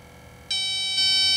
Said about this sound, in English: there's the alarm activated.